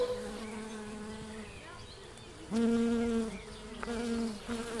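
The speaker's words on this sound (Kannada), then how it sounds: "ಈ ನೊಣಗಳು ನನ್ನ ಮೇಲೆ ಹಾರಾಡುತ್ತಿವೆ." Flies buzz in a steady, close drone that swells louder partway through, then wavers as they move around.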